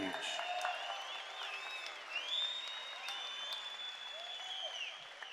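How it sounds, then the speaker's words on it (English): Crowd applause for two MMA fighters at a caged event, a steady wash of clapping and cheering heard at moderate distance with whistles rising above it. "how about another round of applause for our 2 warriors in center cage?"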